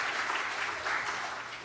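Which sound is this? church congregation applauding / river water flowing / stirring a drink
church congregation applauding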